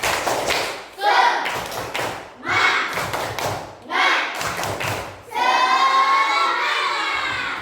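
A classroom of children performs the tepuk semangat clapping routine, bursts of rhythmic group clapping and slaps separated by short pauses, with children's voices chanting along and a louder, sustained shouting passage at the end.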